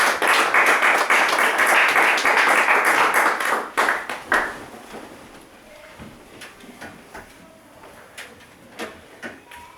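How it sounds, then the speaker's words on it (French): A church congregation claps and cheers for Jesus during a worship service, dense and loud at first, then thinning to scattered claps and taps as it dies away. "Let's give Jesus a big hand."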